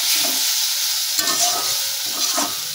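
Sliced pointed gourd bhujia sizzles and fries steadily in a pan, a continuous loud hiss with brief stirring scrapes midway.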